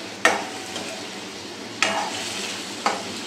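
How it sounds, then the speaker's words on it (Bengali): Prawns frying in hot oil in a pan, a soft steady sizzle broken by three sharp stirring scrapes spaced through the clip, close and fairly quiet. "প্রনটা দিয়ে ছেড়ে দিয়েছি গরম তেলে, আমি সেটাকে একটু ভালো করে ভেজে নিচ্ছি।"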